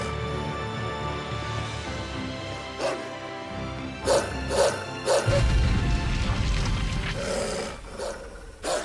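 A dog barks in the video game Tales of Zestiria: several loud, sharp barks in quick succession over a background soundtrack, with a heavier rumbling hit partway through.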